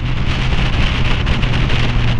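Steady, dense rain pours outdoors along the Florida Keys, a continuous broadband hiss of drops hitting surfaces with some wind mixed in, loud and unbroken throughout with no voices.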